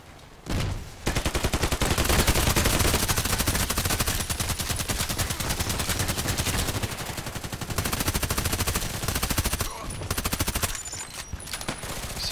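Sustained bursts of H&K MP5k submachine gun fire in Contract Wars, rapid and loud, running almost the whole time with a few short pauses and single shots near the end.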